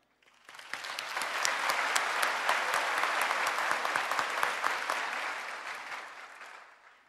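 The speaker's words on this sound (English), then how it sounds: "So let us take a moment to look around and applaud and thank all the teachers, principals, counselors, and mentors" A large audience at a Roseville High School 2023 commencement applauds the teachers. The clapping swells quickly, holds as a dense, steady ovation for about six seconds, then tapers off.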